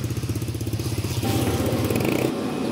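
A motorcycle engine runs on a dyno for an ECU remap at a tuning shop, a steady pulsing drone that rises into a louder, busier rev partway through, close up with no talking.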